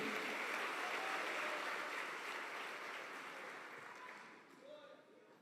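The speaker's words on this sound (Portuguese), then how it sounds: "E a igreja que recebe, adora com as suas palmas e sente-se." Church congregation clapping in worship, a broad wash of applause that fades gradually over several seconds, fairly faint and distant in the room.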